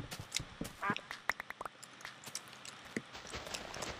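A short, faint nasal quack rises briefly in Minecraft amid scattered clicking footsteps and soft ambient noise.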